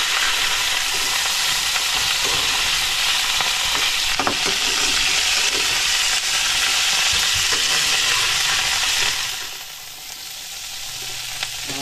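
Hotdogs fry in a pan with a loud, continuous crackling sizzle that stays steady for several seconds, then drops noticeably quieter near the end.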